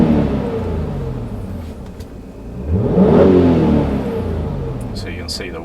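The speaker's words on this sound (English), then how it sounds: "So now when I rev the engine" A car engine revs hard with a turbo spooling up, the roar swelling to a peak near the middle and easing off, loud and close, with background speech. The car is fitted with a boost gauge.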